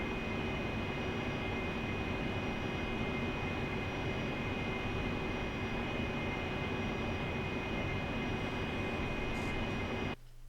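An AV-8B Harrier jet in the DCS World flight game roars with a loud, steady engine drone and a high whine running unbroken, dropping off abruptly near the end.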